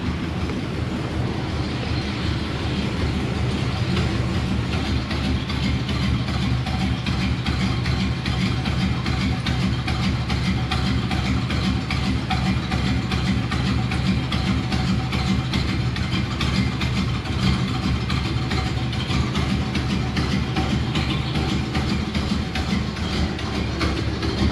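A truck engine idling roughly, a loud, continuous low rumble with a steady mechanical chatter that holds unbroken for the whole stretch, close by and alone.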